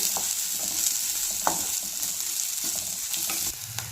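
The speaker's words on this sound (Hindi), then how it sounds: "अब हम इसे भी प्याज के साथ सोटे कर लेते हैं" Chopped green chilies sautéing with onions in a pan, a steady close sizzle with occasional stirring scrapes and a few sharp clicks of the utensil, no talk.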